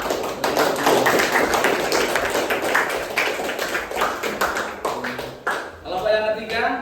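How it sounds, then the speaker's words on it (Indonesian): Students in a classroom applaud a presenting group after a history presentation, loose uneven clapping from a small crowd that thins out and ends with talk. "Kasih tepuk tangan dulu."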